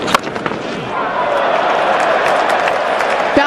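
Cricket crowd at an England vs South Africa ODI applauding and cheering, a sustained wash of clapping and crowd noise with a few sharp claps and a brief whistle-like tone near the end.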